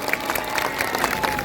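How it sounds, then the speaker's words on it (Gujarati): An audience claps at a political rally in Bharuch, a short burst of dense, scattered applause from a crowd, moderately loud. "એમના માટે તાળીઓ પાડી લઈએ।"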